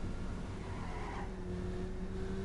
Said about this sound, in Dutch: Ik hoorde iemand precies rijden